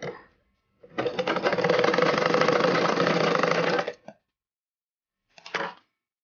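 A sewing machine runs a steady double stitch on an umbrella frock in one loud, even burst of about three seconds, then gives a short stop and one brief final run, close up.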